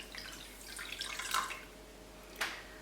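Water is poured into a pan with sugar for mint lemonade syrup, a faint brief trickle and splash building and easing off over about two seconds, with a small final splash, no talk.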